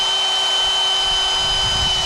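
An 18V cordless electric drill runs steadily at close range for about two seconds during MG cylinder head assembly, a constant whining motor hum with no talk over it.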